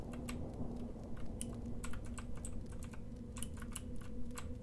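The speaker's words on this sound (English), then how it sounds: "I got a very clacky keyboard, so I apologize for that." A clacky computer keyboard is typed on in quick, irregular bursts of sharp clicks, close to the microphone, over a low background hum with no speech.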